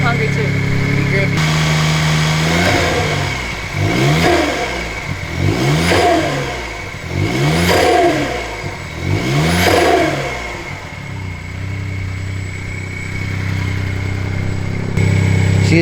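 A Daihatsu Mira Turbo car engine warming up, idling then revved in four rising-and-falling sweeps in a regular rhythm before dropping back to idle, close and loud, with people talking over it.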